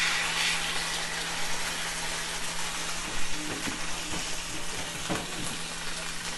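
Thick cut of meat searing in a hot pan over medium-high heat, a steady broad sizzle holding throughout with a few louder crackles and pops near the middle and toward the end, close and alone.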